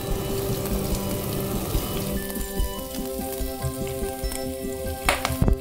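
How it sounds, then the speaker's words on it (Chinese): Scallion, ginger and garlic frying in hot oil in a wok, a close crackling sizzle with pops and spatter, steady throughout with a few sharper clicks near the end, no talking. "锅点热了，然后就底上放一个油，把葱姜蒜放进去爆香"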